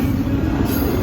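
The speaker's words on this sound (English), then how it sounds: "There's the coal train right there." A coal train rolls past on the tracks near a railroad crossing, giving a loud, steady rumble and rattle of wagons with faint wheel squeal throughout, close by and with no voices.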